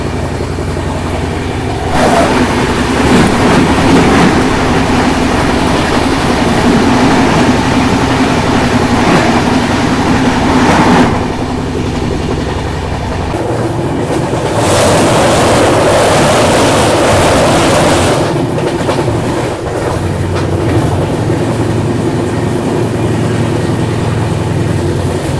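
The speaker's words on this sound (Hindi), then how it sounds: "तो अभी देखो सामने से आ रही है कटिहार अमृतसर अम्रपाली एक्सप्रेस।" The Katihar Amritsar Amrapali Express rumbles past at a station near Beas Junction, a loud sustained roar of wheels and carriages with clattering bursts as it approaches and passes close by, no talk over it.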